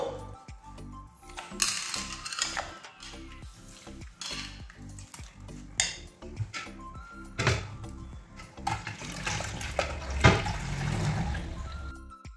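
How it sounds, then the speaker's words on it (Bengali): Hot water poured onto grated coconut in a kitchen bowl while making coconut milk for a semolina halwa, amid clattering utensils, clinks of metal and splashing handling noises, close and fairly loud with no talk. "আবারও আমি এটির মধ্যে গরম জল দিয়ে দেবো"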